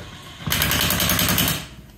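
A power tool runs a burst of rapid rattling impacts for about a second as it tightens the wheel nuts on a Mazda Miata, loud and close, with a quieter lead-in and tail.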